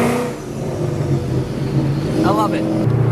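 A Ford S197 Mustang engine runs with a steady, close, throaty drone, a voice briefly talking over it.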